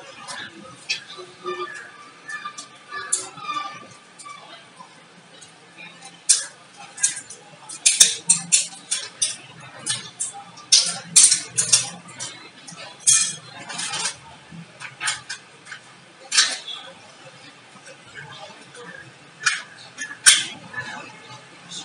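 Batteries being fitted into the plastic remote of an Atomberg Renesa Efficio+ pedestal fan, with irregular close clicks, taps and clinks of plastic and metal, mostly alone with little talk.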